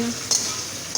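Okra and eggplant fry in a pan with a steady, close sizzle, broken by a brief stirring scrape.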